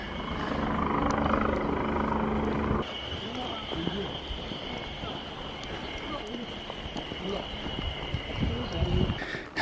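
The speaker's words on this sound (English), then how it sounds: "There's a helicopter up ahead too." A helicopter drones steadily in the distance ahead, heard while walking uphill in Japan, a continuous rumbling whir that stays constant throughout with no talking over it.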